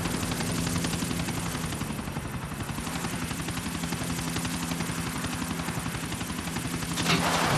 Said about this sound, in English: I want that helicopter